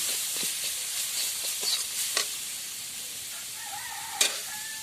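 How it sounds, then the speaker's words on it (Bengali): Chilli powder and roasted spices being stirred in a hot frying pan, a steady soft sizzle with a few sharp spatula scrapes and taps standing out near the end. "লঙ্কার গুঁড়ো আর ভাজা মশলা সব কিছু ভালো করে নাড়াচাড়া করে নেব"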